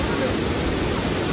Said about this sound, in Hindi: काफी अच्छा फ्लो है आज वाटरफॉल का, यहाँ पे काफी तेज बह रही है